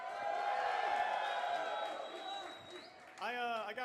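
A live audience at a Midnight Society founder event in LA cheers and whoops in a loud, continuous wash of crowd noise that fades slightly, then surges again near the end with shrill whoops and shouts.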